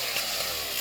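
A chainsaw cuts during hurricane cleanup after Hurricane Dorian in Atlantic Canada, a loud, steady buzzing whine heard close for under a second.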